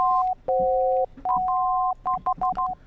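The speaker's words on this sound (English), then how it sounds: "Anyway, this is called a tritone." A two-note tritone interval rings out as pure, dissonant electronic tones: long sustained notes at first, then a run of short, rapid alternating beeps, clear and close with no voices.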